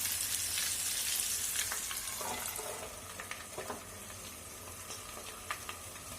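Freshwater prawns fry in a covered pan with a steady, bright sizzle that is loudest at first and eases slightly, broken by a few soft pops and crackles. No voices are heard.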